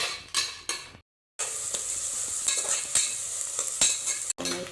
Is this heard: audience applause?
no